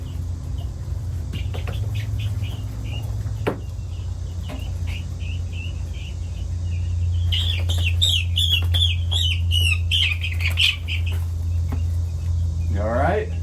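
Young chickens in a coop chirp and cluck in bursts, several close calls overlapping amid a steady low hum.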